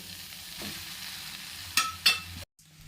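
A spoon stirs fried spices with chopped boiled egg and fenugreek in a hot pan. A steady sizzle carries two sharp scraping strokes, then cuts off briefly before the hiss resumes.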